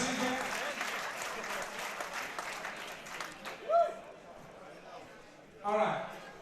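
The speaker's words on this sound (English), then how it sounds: "Come on, give the girls a big round of applause" Crowd applause at a SuperFight combat-sports event, steady clapping and cheering filling most of the stretch before thinning out, with brief louder bursts near the end.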